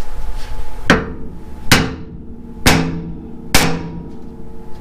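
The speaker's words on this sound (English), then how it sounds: "I'm gonna tap it with the hammer first" Four sharp, evenly spaced hammer blows ring out on a tie rod end under a vehicle during a DIY steering repair, each strike a loud metallic tap with a short decaying ring, with no talk.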